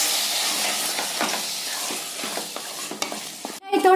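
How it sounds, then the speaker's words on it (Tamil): Minced mutton being stir-fried with onions for kothu kari in a home kitchen pan: steady close sizzling and frying hiss with scraping stirs, ending in a sudden stop and a brief clatter. "சேர்த்திட்டு நல்லா இந்த வெங்காயத்தோட பிறக்கி விடுங்க."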